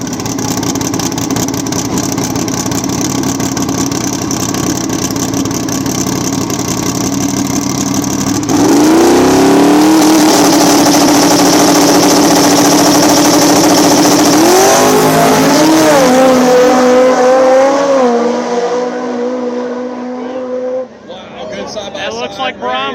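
Small-tire drag race cars in a street-style back-of-the-track quarterfinal in Ohio, engines roaring loud and close with revving and acceleration shifts, an announcer's voice over the noise, fading toward the end.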